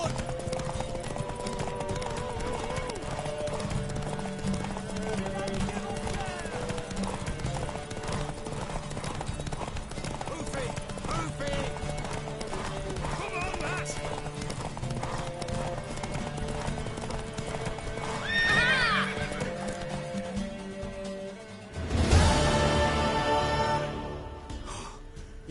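Horse hooves clip-clop steadily through a long stretch of The Witcher 3 gameplay under game music and voices, with a brief neigh or snort near the end and a louder burst of noise just after.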